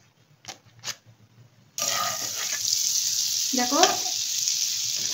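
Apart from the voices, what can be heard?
butter sizzling in a hot pan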